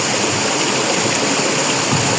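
Water of a rocky river near Dharan rushes steadily over stones, a dense, continuous broadband roar that stays loud and close for the whole stretch with no voices.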